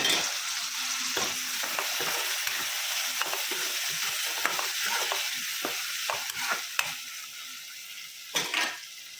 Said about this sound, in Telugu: ఇప్పుడు టమాటాలు యాడ్ చేసుకున్నాం